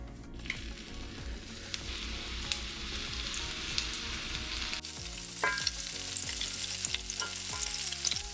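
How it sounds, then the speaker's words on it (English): Meatballs browning in a cast iron skillet on a stovetop sizzle and crackle steadily, close up, with occasional soft scraping and stirring clicks and no talk. "take them over to the stovetop, put them in our cast iron skillet,"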